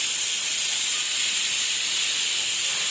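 A kitchen pressure cooker vents steam in a loud, steady hiss that holds evenly from start to finish, with no voices.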